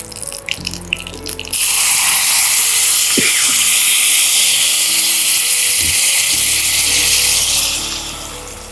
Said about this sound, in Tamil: இப்போ நம்ம இதோட புளி கரைசல் சேர்த்துக்கலாம்.